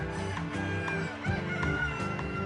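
Domestic chickens of many breeds at a poultry show, clucking and crowing in a dense, continuous chorus, close and moderately loud with a crowded barn-like background.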